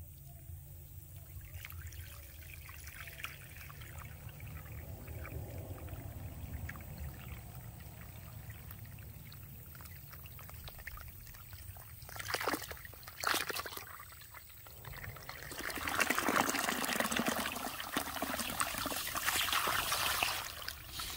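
Water gushes through a clogged drain pipe running from a garage and house to a pit, a steady trickling pour that grows louder and more turbulent in the final seconds.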